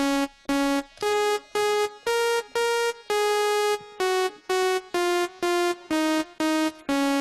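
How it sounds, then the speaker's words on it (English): A bright, synth-like melody of separate sustained notes stepping up and down in a cheerful major scale, evenly paced with short gaps between notes. "You make it major, watch. Major scale will sound like this."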